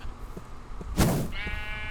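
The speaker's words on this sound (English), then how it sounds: "if I were to summon, let's say, a sheep" A Minecraft sheep lets out a single wavering bleat in the middle of quiet game sounds, clear and moderately loud, with soft thumps around it.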